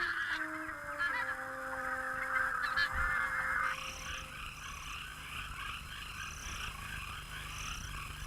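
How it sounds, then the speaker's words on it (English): Wild geese give loud honking, yelping calls, several overlapping voices rising and falling close by, with a softer chorus of calls continuing behind. "wild geese return from the Arctic to yelp a warning of winter's coming"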